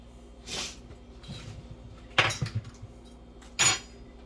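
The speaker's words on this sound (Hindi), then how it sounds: "और इसके अंदर अब मैं सारे वेजिस डाल दूंगी।" Chopped vegetables such as peas, carrot, potato, onion, cherry tomatoes and zucchini tip into a dish with a few separate clinks and clatters of utensil on cookware, close up, with quiet gaps between them.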